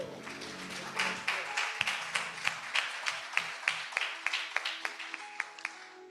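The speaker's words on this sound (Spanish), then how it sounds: "Entonces deberíamos darle un aplauso al Señor" A church congregation claps together in worship, a dense burst of applause that settles into steady rhythmic clapping in time, fairly close and continuing alone without talk.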